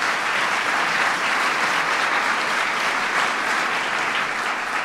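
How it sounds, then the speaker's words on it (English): Sustained, dense applause from a large audience for DARPA director Regina Dugan at a presidential event on education and innovation, steady and loud throughout with no voices over it. "please give Regina a big round of applause"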